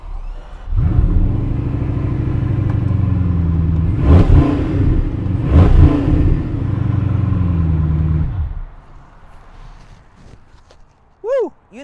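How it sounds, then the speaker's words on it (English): A Bugatti Chiron with a one-off Hermes-etched grille starts up loudly, holding a deep steady rumble for about eight seconds with two sharp rev blips in the middle, then cuts to quiet background sound. "All right, do you guys want to hear the engine?"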